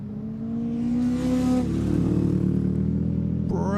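Historic race cars, a little Crosley and a Ginetta, accelerate past on a circuit at a historic racing festival, engines rising in pitch as they sweep by, with a second car's sharper rasp arriving at the end.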